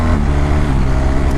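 A BMW R 1300 GS motorcycle accelerates to overtake on the road, its engine droning loud and close in a steady, rising pull mixed with wind rush.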